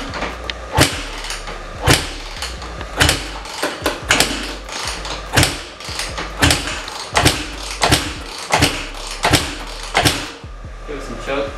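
A Honda CRF150R dirt bike engine being cranked without starting, a run of loud rhythmic mechanical thumps and creaks roughly once a second, close by, with a voice in the background.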